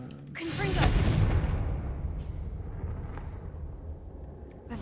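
A Confringo fire spell exploding in the video game Hogwarts Legacy, a loud booming blast with a whooshing burst that rumbles on and fades under game ambience.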